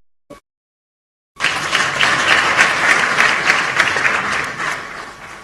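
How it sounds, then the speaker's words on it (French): Applause from an audience at a Kofi Annan tribute ceremony in Kinshasa's city hall, a dense burst of many hands clapping that begins after a brief pause and carries on steadily and loudly to the end. "je pense qu'elles méritent une bonne main d'applaudissements"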